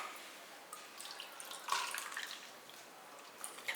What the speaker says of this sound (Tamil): இப்போ தேவையான அளவுக்கு தண்ணியை இதிலேயே ஊற்றிடலாம்